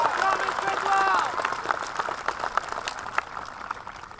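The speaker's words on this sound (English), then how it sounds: "Let's give them all a round of applause." Applause rises from a high school graduation audience, loud at first and then thinning into scattered claps, while a voice sounds over the start.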